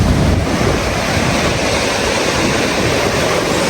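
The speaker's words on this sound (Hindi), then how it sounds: "ग्लेशियर से आ रहा है ये पानी।" Glacier-fed river water in Kashmir rushes in a loud, dense, continuous roar close by, with some wind noise and no voices.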